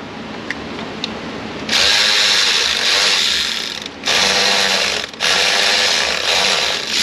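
A ratchet with a socket loosens engine bolts on a dual-spark HEMI, giving brief clicks and then sustained bursts of rapid ratcheting close up, with short pauses between them.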